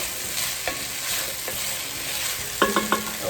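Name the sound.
stirring spices into frying potatoes and onions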